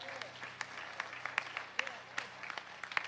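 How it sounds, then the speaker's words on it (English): A church congregation at a Sunday morning worship service gives a hand clap of praise for Evangelist Nyoutha Ross, faint scattered claps with sharper individual hits standing out over a low hum and soft murmuring voices. "Let's give the woman of God, Evangelist Nyoutha Ross, a hand clap of praise for delivering God's word."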